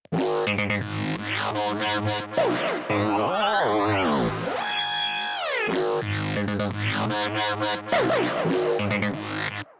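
A looping synthesized noise pattern of sweeping, gliding electronic tones and buzzy tonal bursts, loud and continuous, repeating across the stretch.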